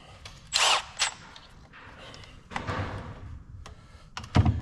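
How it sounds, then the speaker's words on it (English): A power tool takes out transmission mount bolts on a Jeep Cherokee XJ in short whirring bursts, with metallic clunks and rattles between them, close by. "Now we're going to take out the 4 transmission mount bolts."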